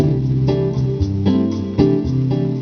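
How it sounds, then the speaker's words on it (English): A keyboard accompaniment plays a Latin-style guitar strumming pattern, steady and rhythmic, with bass notes shifting under the chords. "this is the Latin guitar rhythm"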